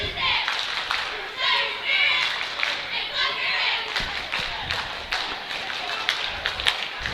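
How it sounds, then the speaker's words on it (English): Cheerleaders shouting cheers and clapping in rhythm at a girls basketball game, the voices and claps close and energetic over a gym crowd, with people talking among them. "Eagle cheerleaders there, bringing the noise, getting the fans up on their feet."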